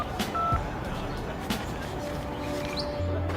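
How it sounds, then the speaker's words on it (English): A cell phone in a movie rings with a ringtone made of two short keypad-style beeps. The tones are brief and clear over quiet room noise and a low background hum. "I guess her ringtone is just 2 keypad beeps."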